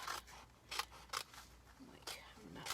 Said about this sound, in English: I'm just going to cut along this line here that it leaves for you to cut.